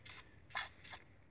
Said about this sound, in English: I'm using some lubricant spray too. PB Blaster or something like that. And just kind of spray up in here.